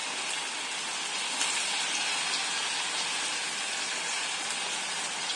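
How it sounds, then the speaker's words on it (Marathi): Sabudana vadas fry in hot oil over a high gas flame, giving a steady, dense crackling sizzle that holds level and close throughout with no talk. "आपण हे वडे तळून घेऊया."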